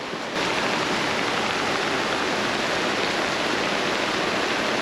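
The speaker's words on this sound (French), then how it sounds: "Il pleut tellement que ça rentre partout" Heavy tropical downpour during a July building project in Trinidad, a dense, steady hiss of rain pouring down close by, unbroken for the whole stretch with no voices.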